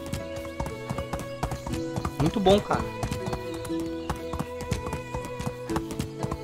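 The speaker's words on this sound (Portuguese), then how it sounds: "A mecânica do cavalo tá muito boa" A horse gallops in the Medieval Dynasty video game, with steady rapid hoofbeat clip-clops throughout and a brief neigh in the middle, while someone talks over it.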